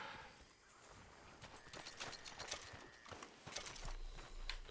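Horses' hooves clip-clop in a steady, close rhythm in the video game Red Dead Redemption 2, along with faint whinnying and soft background game sounds.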